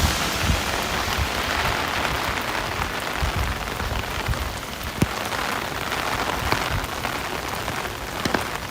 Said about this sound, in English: I knew there was going to be a big downpour